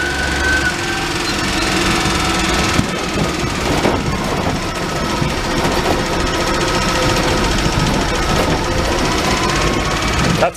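A clapped-out Daihatsu mini truck with a blown engine runs loud and rough, a dense, steady rattling clatter that continues without a break. There is no speech over it.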